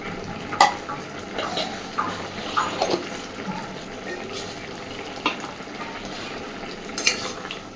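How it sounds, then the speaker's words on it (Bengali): An okra curry gets stirred in a pan after roasted cumin powder goes in: a continuous low sizzle broken by irregular spoon scrapes and light clinks against the metal, loudest in a few sharp strokes. "আবারও ভালোভাবে মিশিয়ে দেবো সুন্দর করে"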